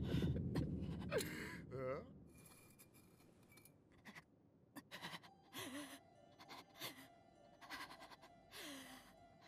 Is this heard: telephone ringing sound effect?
no